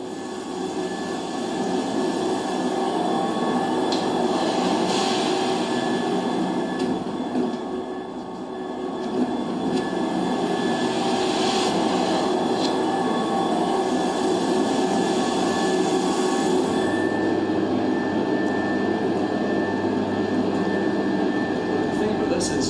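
Processed field recording of railway tunnel maintenance work, a dense steady industrial drone with engine-like rumble and sustained tonal hum, loud and unbroken throughout, with occasional faint metallic accents.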